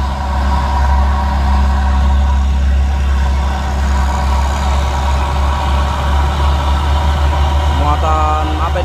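A Hino truck engine runs at a steady idle with a deep, constant low rumble. It stays loud throughout, with a brief higher mechanical whine near the end.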